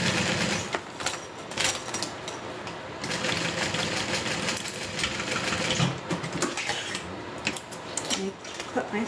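A sewing machine top stitching a quilt runs in a steady, rapid mechanical whir with faint clicks, close and continuous throughout.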